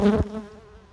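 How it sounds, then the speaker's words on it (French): Honey bees of a healthy colony buzz at the hive entrance on a hot October day while foragers bring in pollen, a steady close hum that swells briefly at the start and then settles into a softer drone. "cette belle colonie d'abeilles rentre du pollen actuellement"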